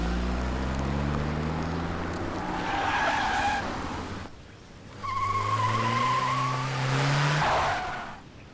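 A car speeds away with engine roar and tires squealing and skidding in two long, loud passes separated by a brief dip, with no voices.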